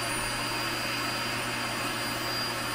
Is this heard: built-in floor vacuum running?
yes